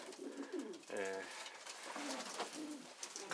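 Pigeons coo repeatedly in a loft fitted with new nesting boxes, the soft throaty calls close and continuous amid ambient rustle.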